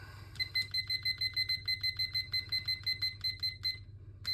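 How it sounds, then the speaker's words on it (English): A kitchen timer, set for 20 minutes while sourdough bread bakes in a Dutch oven, gives a rapid, evenly spaced run of bright electronic beeps, fairly close, then falls silent. "I'll just set the timer for 20 minutes."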